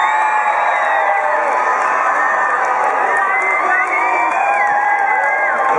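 A large crowd at a UCLA tennis event cheers, whoops and shouts loudly and continuously, a dense wall of excited voices throughout.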